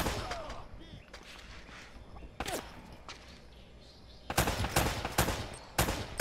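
AK rifle fire in Uncharted: Drake's Fortune, with sharp gunshots and short automatic bursts cracking at irregular intervals, growing heavier and louder toward the end, under faint game ambience and occasional movement.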